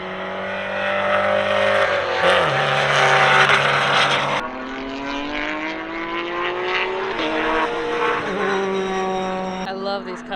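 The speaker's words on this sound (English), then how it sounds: "That's just a little Mazda Miata 4-banger engine." A Mazda Miata four-cylinder cup race car on a track day circuit, its engine loud and near, revving up through gears with rising pitch, a shift and then more climbing revs.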